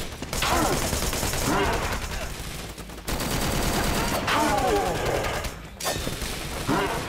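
Rapid bursts of gunfire from a weapon in the video game Wanted: Dead crackle close and loud, broken by brief pauses, with a voice mixed in.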